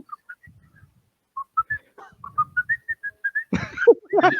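A person whistles a wandering tune of short, clear notes with brief pauses, followed by a burst of louder, fuller sound near the end.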